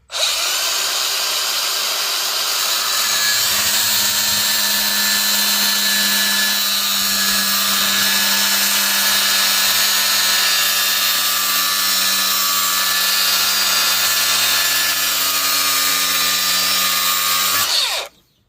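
A power tool cuts through a piece glued onto a scrap of metal and held magnetically, no vise needed. It gives one steady, loud, high-pitched whine for about eighteen seconds, then stops abruptly.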